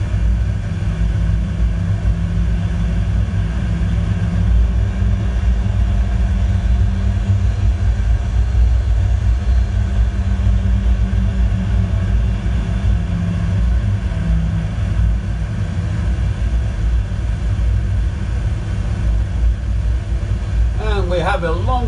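Airliner engines spooling up on a runway in a flight simulator, a steady loud low rumble and roar that holds throughout, with speech over it.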